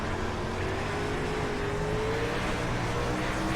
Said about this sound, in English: Got Tyler, the number 5 car, flying up behind us.